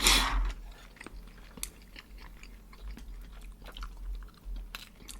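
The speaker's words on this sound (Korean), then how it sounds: "크게 한입 먹었냐?" Close chewing of a big bite of food from a salmon and kimchi stew meal: soft wet crunches and jaw movements in an irregular rhythm, starting with a louder bite.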